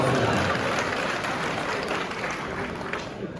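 An audience at a qawwali performance in Tilhar claps together, a dense wash of applause that runs for a few seconds and eases slightly near the end.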